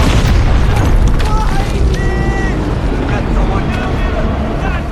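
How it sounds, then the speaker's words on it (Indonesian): A loud, sustained booming roar of a bomb exploding on a bridge in a film, with heavy low rumble filling the whole clip. "Di tengah jembatan, bom meledak."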